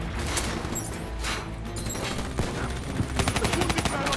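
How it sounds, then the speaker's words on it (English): Gunfire and sniper shots in the video game Call of Duty: Black Ops 3, a dense fusillade of moderate-volume shots and impacts mixed with crashing battle noise throughout, building to rapid repeated bursts near the end. "Where am I getting sniped from?"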